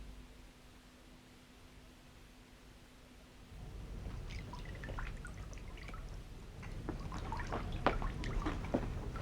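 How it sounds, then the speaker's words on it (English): Soft, quiet water sounds: a faint hiss, then gentle splashes and drips patter irregularly, growing a little busier toward the end. "Oh, I'm playing with the water."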